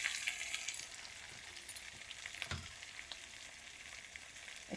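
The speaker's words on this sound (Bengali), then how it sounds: "একটু ভালো করে ভেজে নেব আলুটা" Potatoes frying in a pan, a continuous close hiss and sizzle of hot oil with a faint stir or scrape partway through, no voices.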